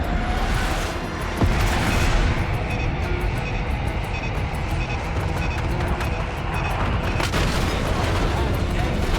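Bombs exploding in Call of Duty: Black Ops 6 as a continuous, loud barrage of deep blasts and rumbling fire over about nine seconds, with radio chatter running through it.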